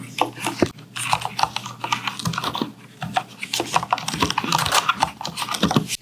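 Steady typing on a Cherry KC 200 mechanical keyboard with MX switches: dense, fast, close-up clatter of keystrokes with brief pauses, crisp but fairly soft-toned clicks.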